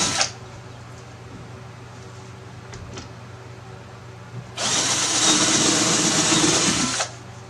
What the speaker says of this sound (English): Drill a hole for your screw